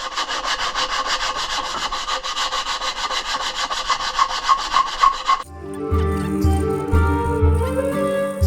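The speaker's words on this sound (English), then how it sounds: "Run this strip of sandpaper through here and we can get that inside edge." A strip of sandpaper pulled back and forth along the inside edge of a wooden cutting board tray table, making a close rhythmic rasping for about five seconds before the sound changes to something different.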